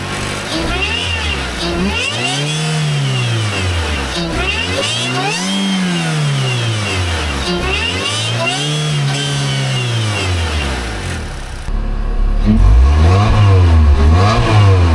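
Supercharged Suzuki Swift ZC31S engine, unrun for 18 months, revving repeatedly in slow rising and falling sweeps from a lumpy idle, loud and close, with a final louder burst of revs.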